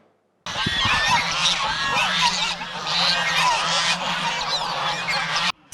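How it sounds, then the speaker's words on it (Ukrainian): Thousands of geese on a 20-hectare farm near Lutsk honk in a loud, dense, continuous chorus, with layered calls from many birds near and far. "На 20 гектарах землі тисячі гусей."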